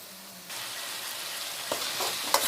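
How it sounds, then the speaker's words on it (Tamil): Ginger garlic paste sizzles and fries in a pan after being dropped in, with soft stirring scrapes and a clink. "இந்த ஸ்டேஜில் இஞ்சி பூண்டு பேஸ்ட்டை போட்டு நம்ம சேர்த்துக்கலாம்"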